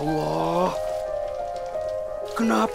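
Rain falling in a steady hiss as the background to dramatic sustained tones, with no voices speaking over it.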